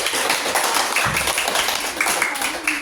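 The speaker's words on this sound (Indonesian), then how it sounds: "tepuk tangan untuk Putri" Hands clapping in a classroom as a class applauds a student, a short burst of taps and claps mixed with voices and room chatter.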